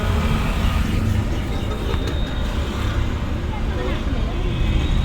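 A car moves off slowly during a driving lesson, a steady low engine and road rumble continuing throughout, with an instructor speaking over it.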